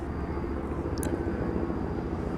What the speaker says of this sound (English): so a helicopter is coming.